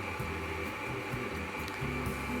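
A stand mixer kneading pasta dough for ravioli at fairly slow speed gives a steady motor hum with faint rhythmic thumps, continuous and fairly quiet, with no voices.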